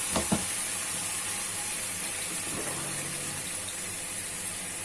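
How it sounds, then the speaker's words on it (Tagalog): Water added to a hot pan of fried tofu, a sharp splash and burst of sizzling followed by a steady hissing bubble close by. "ilagyan ko siya ng tubig"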